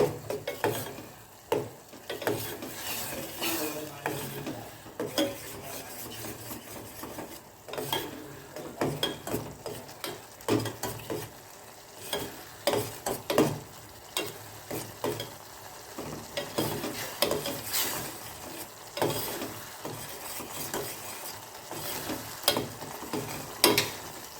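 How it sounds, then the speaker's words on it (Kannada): Tomato paste frying in oil in a pan for rasam, heard as a low, steady sizzle broken by frequent scraping, clicking stirring strokes in an irregular rhythm, close and fairly quiet, with no talking. "ಟೊಮೊಟೊ ಪೇಸ್ಟ್ ಏನಿದೆಯಲ್ಲ ಇದು ಎಣ್ಣೆಯಲ್ಲಿ ಚೆನ್ನಾಗಿ ಫ್ರೈ ಆಗಬೇಕು"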